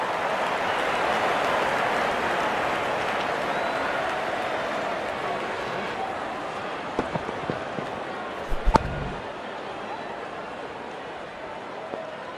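Crowd noise in a cricket video game, with a full stadium roaring and cheering continuously from a distance, a few sharp thuds and knocks breaking through near the end.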